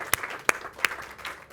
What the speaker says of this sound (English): And yes, it's worth a clap.